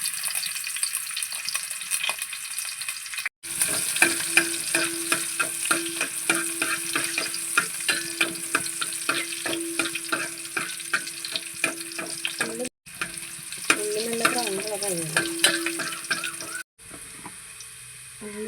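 Onion and green chili frying in hot coconut oil in a pan, a steady close sizzle with scraping stirs, a brief burst of running tap water partway through, no talk.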